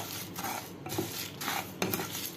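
Whole masala spices dry-roasted and stirred in a pan over a low flame, a spoon scraping and clinking against the pan in a few separate strokes, close and fairly loud.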